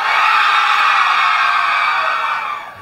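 Loud, sustained cheering and screaming from a crowd at a pageant event in Nicaragua, a continuous roar that fades slightly at the end.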